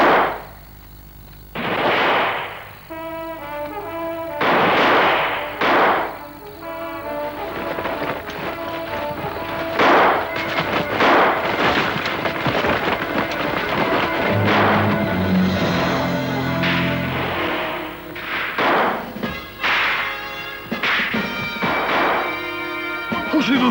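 Gunfire erupts in a French-language audio drama, sharp loud shots and crashes mixed with running and frantic commotion, layered over dramatic music and voices.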